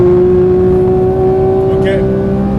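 Porsche 992 GT3 with manual gearbox under acceleration on the Dijon-Prenois circuit, a loud steady engine drone heard from inside the car with a voice talking over it.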